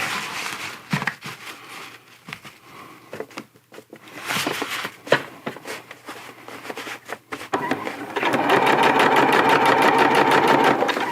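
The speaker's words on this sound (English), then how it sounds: "I've got all the no-seam bug baffle material sewed to the camo sides" A sewing machine stitches no-seam bug baffle netting onto camo fabric for a hammock underquilt, starting with short stop-start bursts and fabric handling, then running in a loud continuous rapid whir for the last few seconds.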